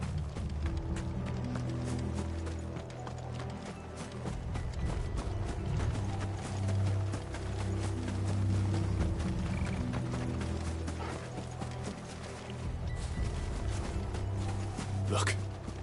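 Horse hooves clip-clopping in Final Fantasy XVI, a steady trotting patter that runs through most of the passage beneath droning game music and ambience, with a brief bright effect near the end.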